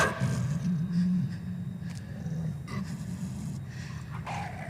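Attacking dogs in the video game Inside snarl and snort aggressively at close range, with rough growling bursts running continuously through the moment.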